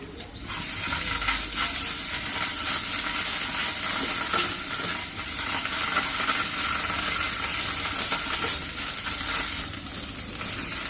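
Ginger, garlic and raw cumin paste frying with onion in a pan, a loud continuous sizzle with scraping stirring strokes close up, with no voices.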